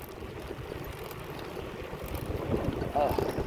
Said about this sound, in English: I'm getting a nice breeze right now.